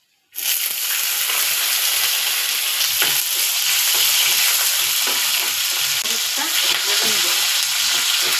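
Green chilies fry in hot oil with a loud, steady sizzle and crackle that starts abruptly and runs on continuously, with occasional pops and stirring scrapes and no talking.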